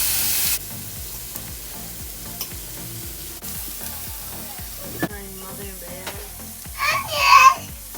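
Mushroom burger patties cook on a grill with a fairly quiet frying sizzle and repeated soft scraping or stirring bursts. A brief louder hissing flare rises near the end.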